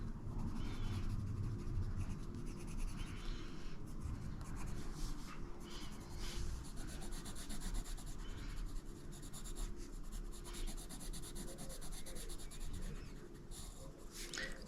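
A rosy beige colored pencil burnishing color onto paper in close-up, a steady soft scratchy rubbing that continues without pause, quiet but near, with faint breathing.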